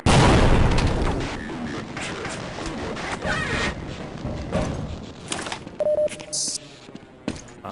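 Grenade explosions in the Half-Life MMod game, a loud heavy boom opening the clip and decaying into rumbling debris, followed by scattered smaller pops, clicks and weapon sounds.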